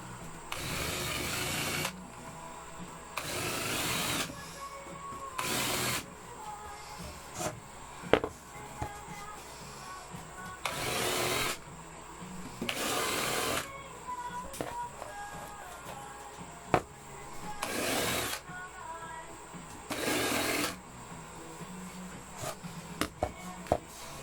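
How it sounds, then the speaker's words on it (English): A unibit drill smooths drilled holes in a pedalboard in repeated short whirring bursts of one to two seconds, with quieter handling and scraping between them. "we want to smooth these out. So we're going to take a unibit and basically just do this."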